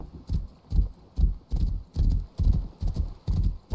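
Horse hooves clip-clop in a steady, heavy gait, about two thuds per second, close and loud in the Rust video game, with no clear neigh rising above the footfalls.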